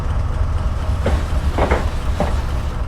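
A Class 70 diesel freight train rolls past on the South Wales coast with a steady heavy rumble and faint rail clatter throughout, loud and close.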